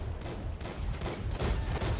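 Rapid autocannon fire from an M3A1 Bradley in World of Tanks rattles out as a dense, continuous burst of overlapping shots, rough and fairly loud, with no voices over it.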